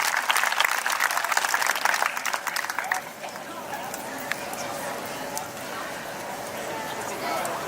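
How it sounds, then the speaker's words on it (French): An audience at a farm event in Beauceville, Beauce, claps for the people who supported the day, dense and steady for about three seconds before easing into a thinner patter, with a faint steady tone underneath. "Je voudrais qu'on donnerait une bonne main d'applaudissements à toutes les personnes qui nous ont appuyés pour cette journée"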